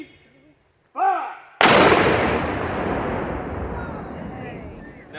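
A cannon section fires a single, very loud artillery blast at a Battle of Johnsonville anniversary demonstration, with a long rumbling decay after it. A shouted command is heard just before the shot.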